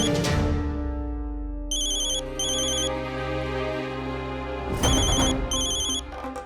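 A mobile phone rings with a bright electronic melody in repeated bursts over a sustained tonal music bed, loud and close, with no speech.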